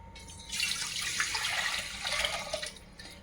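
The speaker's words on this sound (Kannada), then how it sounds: "ಒಂದು ಸ್ಟೀಲಿನ ಪಾತ್ರೆ ಇಡ್ತಿದ್ದೀನಿ. ಇದಕ್ಕೆ ನೀರು ಹಾಕ್ತೀನಿ." Water runs and splashes steadily into a steel pot for about three seconds, a bright rushing pour close by with no voices.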